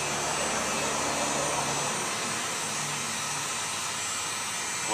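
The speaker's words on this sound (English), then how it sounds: "Applying a little heat gun to them." Heat gun blowing hot air onto the limb tips of an Osage orange longbow, a loud steady close-up roar of fan noise and rushing air that never changes.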